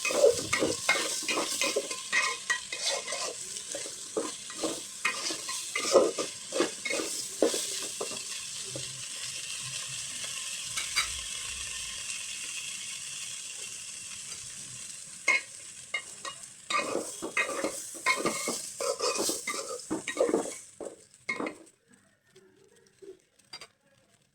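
Rice being cooked for white polao is stirred in a pot with ginger-garlic paste and salt, giving repeated scraping and clattering strokes over a soft sizzle, loud and close, easing off near the end.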